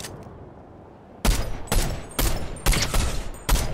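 Gunfire in the Fortnite video game: five loud, evenly spaced shots or short bursts ring out after a quiet start, each sharp and close, with no talking.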